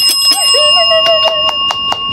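A bell rings during a live selling stream: loud, rapid, bright metallic strikes repeat in a quick train with a sustained ringing tone beneath, close and dominant, with no talk.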